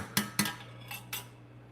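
A spoon scrapes and clinks twice against a pot while Spam and cheese get a last stir, followed by two softer scrapes, all close and fairly quiet over a steady low hum.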